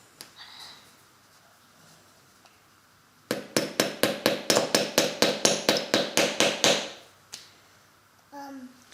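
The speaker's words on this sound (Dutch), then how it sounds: "Hamer heet dat. Een hamer." A toddler's hammer strikes about fifteen quick, even blows in a row, loud and close, with a quiet room and a small voice before and after.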